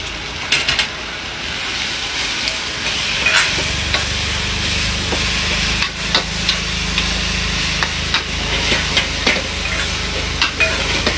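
Garlic frying in a pan for canned-fish tom yum fried rice, a steady close sizzle with occasional sharp taps and scrapes of stirring.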